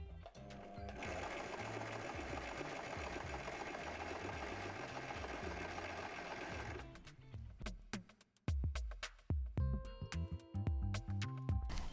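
A sewing machine running steadily through a stretch stitch, a loud continuous whirring close by for several seconds, then stopping and giving way to clicks, knocks and handling noises.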